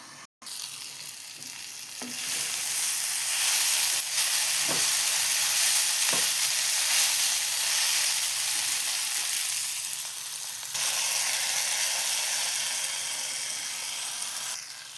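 Eggplant stir-fry sizzling steadily in a covered pan over a low flame, a continuous close frying hiss with a few faint clinks, no talking.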